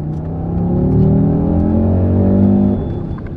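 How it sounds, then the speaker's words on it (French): Five-cylinder engine of an Audi RSQ3 with 400 hp, revving up with rising, steady harmonic tones, loud and close, holding strong before easing off near the end; no voices. "juste écoutez la mélodie de ce 5 cylindres qui a un agrément tout particulier"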